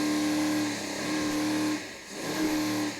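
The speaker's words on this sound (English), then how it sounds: "You hear how the throttle man has to come off the throttles when they leave the water." Offshore racing powerboats at the 2005 New York Super Boat Grand Prix roar steadily, engine pitch dropping briefly as throttles come off when the hulls leave the water, then picking back up, loud and continuous throughout.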